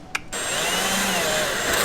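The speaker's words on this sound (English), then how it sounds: "if I keep drilling the way that I'm drilling, it ain't gonna be good" A power drill bores into a K24-swapped Nissan S13, starting with a short click and then whirring loud and steady up close, with no talking.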